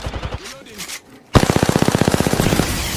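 Rocket rifle gunfire in the Apex Legends video game: after a brief pause, a loud, rapid string of sharp shots fires in an even, fast rhythm and continues to the end, close and punchy, with a voice heard just before.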